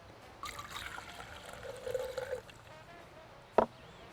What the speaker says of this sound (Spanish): Entonces ponemos el vasito de kéfir.